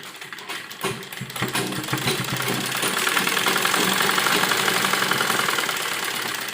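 A sewing machine runs a straight seam on a frock with a steady mechanical whir and rapid needle chatter, building after a slow start and then holding even and close.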